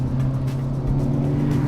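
Engine of a 2022 Hyundai Elantra N, a front-wheel-drive performance sedan, pulling hard under full throttle around a corner, a steady loud droning growl heard from inside the car.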